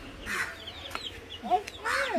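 Chickens clucking in short, scattered bursts close by as they peck at cooked rice, with soft tapping and faint background voices.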